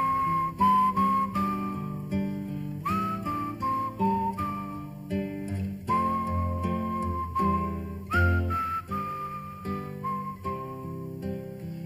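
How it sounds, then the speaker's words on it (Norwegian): A man whistles a self-made melody, a clear, close tune of sustained and bending notes phrased in short rhythmic runs with no other sound. "Melodien han plystret på, den hadde han laget selv."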